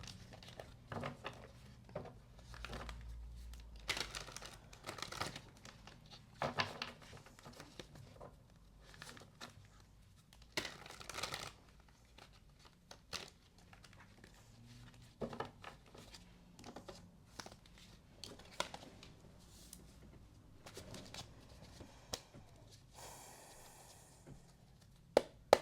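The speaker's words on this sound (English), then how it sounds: "Give your clarifiers a quick shuffle here," A deck of tarot cards is shuffled up close, giving a soft, steady patter of riffling and sliding card edges with small crinkly snaps. The sound runs quietly and continuously with no voice over it.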